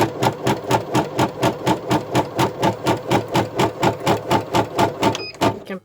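An embroidery machine stitches a bookmark design in red thread with a steady, loud, mechanical chugging rhythm of evenly spaced pulses that winds down at the very end.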